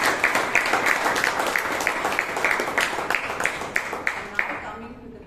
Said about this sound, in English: Or let's give the president and Varsha a good round.